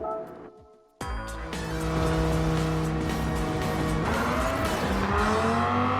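A Dodge Viper GTS race car in a racing video game idles briefly, then roars loudly as the engine revs hard and climbs through the gears, with the pitch sweeping upward several times.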